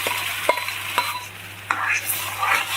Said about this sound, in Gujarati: હવે આપણું તેલ આવી જાય એટલે અંદર આ ડુંગળીની પેસ્ટ છે એ નાખી દઈશું